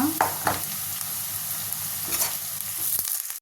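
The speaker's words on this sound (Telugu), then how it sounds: "ఇప్పుడు ఇందులో ఒక రెమ్మ కరివేపాకు ఒక హాఫ్ స్పూన్ పసుపు వేసి కలుపుకున్నా" Curry leaves and turmeric being stirred into fried onions in a pan, with a steady oil sizzle and a few scraping spoon strokes throughout, close and moderately loud.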